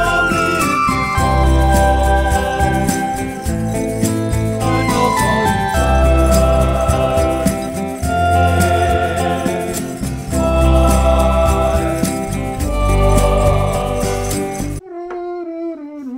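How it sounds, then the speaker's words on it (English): A bright square-wave synthesizer lead doubles the chorus melody of an indie song over a full home-studio mix with a heavy low end, running steadily before cutting off to a short quiet tail. "I'm gonna duplicate the melody of the chorus with the synthesizer. I've created this lead patch with a square wave."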